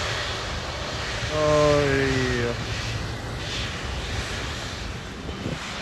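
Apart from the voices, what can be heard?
Qatar Airways Boeing 777-300ER jet taking off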